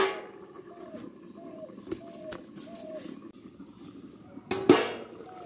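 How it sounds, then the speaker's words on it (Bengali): A metal lid lifts off a cooking pot of simmering fish roe fritters with potatoes, giving a sharp clatter near the end after a stretch of quiet kitchen background with soft bubbling and intermittent chirps. "ঢাকনাটা তুলে নেবো"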